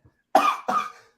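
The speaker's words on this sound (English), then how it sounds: "I was coughing" Two close, loud coughs in quick succession, one short burst followed by a second, from a person during a casual gaming session with no other sound around them.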